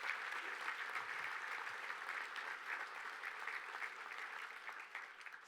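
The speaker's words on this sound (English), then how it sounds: "let's give all of our sponsors a big round of applause." Sustained applause from an audience at an award ceremony, honoring sponsors, a dense even patter of clapping hands that holds steady and fades slightly at the end, heard alone without talk.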